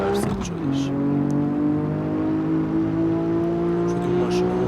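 Car engine in the driving video game X Street, a steady sustained drone with rising pitch early on, then holding a continuous hum throughout, loud and close.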